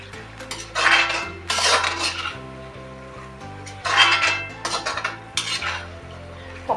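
Mutton is stirred and fried in a pan on a gas flame, with repeated bursts of scraping and clattering from a metal spoon against the pan over a low hum and soft sizzle.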